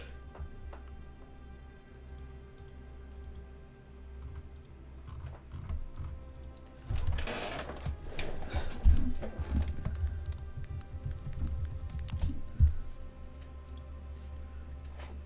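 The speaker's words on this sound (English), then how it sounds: "I can already see Major typing." Typing on a computer keyboard, a scatter of quiet clicks and taps that turns into a busier, louder burst of keystrokes midway before settling back to faint, sparse clicking.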